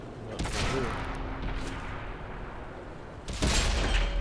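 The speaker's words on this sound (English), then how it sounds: "Shot ricochet." A tank shell in World of Tanks glances off armour as a ricochet, producing sharp booming bursts at the start and near the end over a low rumbling battle din.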